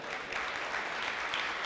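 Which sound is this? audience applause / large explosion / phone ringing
audience applause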